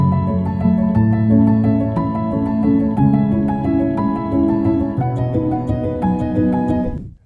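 A soft, mellow piano recording plays on its own, with overlapping sustained chords and a gentle melody at a steady, full level until it fades out at the end.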